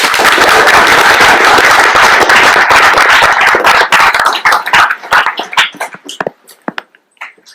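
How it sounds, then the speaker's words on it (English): Audience applause for a local singer-songwriter at a live event, loud dense clapping that thins out into scattered individual claps and dies away over the last few seconds. "A warm round of applause, please."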